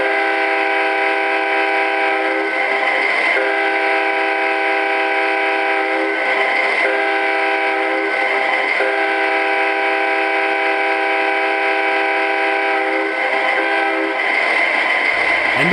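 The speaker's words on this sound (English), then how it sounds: "Here's the horn." A Canadian Pacific Holiday Train model locomotive by MTH sounds its Proto Sound 3.0 horn in repeated long, chord-like blasts with brief gaps between them, loud and close over a steady background drone.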